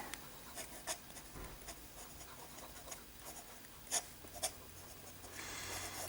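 A medium-nib fountain pen scratches across paper in a steady, faint, close rasp, with a few brief louder ticks as strokes begin and end.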